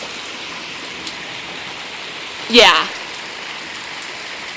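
Rain falls steadily outside as a soft, constant hiss in the background, and a voice briefly speaks over it partway through.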